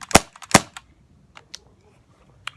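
An Elite 2 Beretta CO2 BB pistol fires two sharp, loud pops in quick succession up close. Lighter clicks and small handling taps follow and the gun falls quiet after that.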